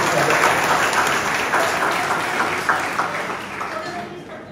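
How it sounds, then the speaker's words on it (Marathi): Loud, sustained applause from a large audience, dense clapping continuing steadily throughout and tapering only slightly near the end. "जोरदार टाळ्या वाजवत"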